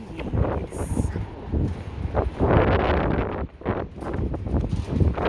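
A breezy wind buffets the microphone on an afternoon street walk in Benidorm, in uneven gusts and rumbling bursts, loud and close, with no clear talking.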